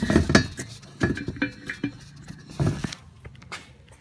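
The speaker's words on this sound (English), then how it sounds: "We're gonna raise that drain pan up real quick." A metal oil drain pan is shifted and raised under a car during an oil change, producing a few scattered hollow clanks and rattling knocks close by, then quieter scrapes.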